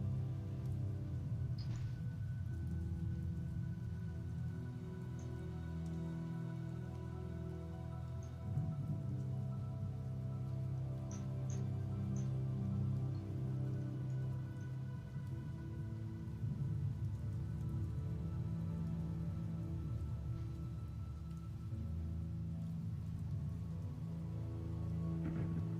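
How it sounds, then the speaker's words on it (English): Steady rain falls with a low rumbling undertone suggesting distant thunder, continuous and moderately quiet over about 26 seconds, with a few faint high ticks and no voices. "I'm listening to fake thunder noises. They might be real thunder noises"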